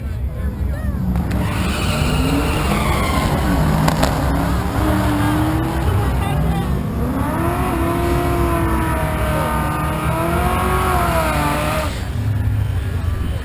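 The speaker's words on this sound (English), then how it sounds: "Dorn the 95 Cobra. Lynch the 1990 Mustang from Michigan" Two Ford drag cars, a 1995 Mustang Cobra and a 1990 Mustang running nitrous, launch at an NMRA event at Bradenton Raceway, Florida. Loud engine roar rises and sweeps in pitch beneath continuous announcer talk.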